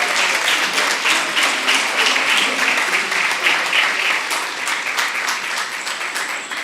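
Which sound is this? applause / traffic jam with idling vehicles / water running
applause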